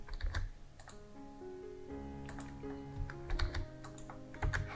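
A computer keyboard is typed in short bursts of clicks entering shortcuts in 3D modelling software. Quiet, close keystrokes sit over soft background music tones.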